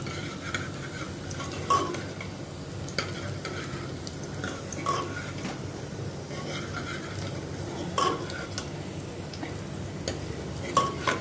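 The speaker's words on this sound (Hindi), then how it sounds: "प्याज को थोड़ा मैं सौते करती हूँ" Chopped onion sautéing in a pan while cooking whole moong curry, with a steady low sizzle and frying hiss, occasional stirring scrapes and clinks of a utensil against the pan, close and continuous throughout.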